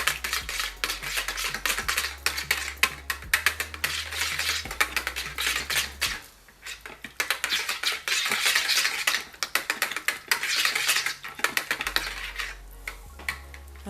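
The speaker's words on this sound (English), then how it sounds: "we're going to stir that around until we get the color we're wanting" A utensil stirs colorant into a soap mixture for chocolate strawberry creme pie soap slices. Rapid, repeated clinking and scraping against the container carries on steadily, with a brief lull midway.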